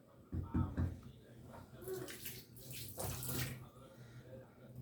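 Water runs from a tap in a quiet gush, splashing unevenly for a few seconds in a nearby room.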